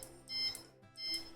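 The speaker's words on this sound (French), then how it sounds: "les bips que vous entendez, c'est tout simplement parce que je mets ma main sur les courroies" Two short electronic beep bursts from the end stop of a Tronxy X5SA 3D printer, triggered as its belts are touched just after a print; the high tones are fairly close and clear, with a brief gap between them.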